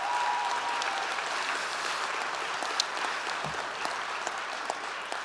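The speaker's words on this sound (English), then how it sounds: "Let's give them a round of applause." Steady applause from a school board meeting audience honoring an 8th grade girls' state-qualifying volleyball team, a dense, even wash of clapping sustained for about five seconds with a few sharper individual claps.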